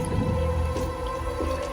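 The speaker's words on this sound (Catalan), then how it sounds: "aquesta aigua que veiem baixar" Water released through the outflow conduit of the Foix reservoir dam rushes and gurgles steadily nearby, a continuous flowing wash with a low rumble underneath.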